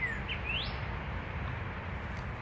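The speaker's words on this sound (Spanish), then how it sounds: "Los pájaros me están hablando" Birds chirping outdoors, a few brief rising tweets early on over a steady low background hum, fairly faint and with no talking.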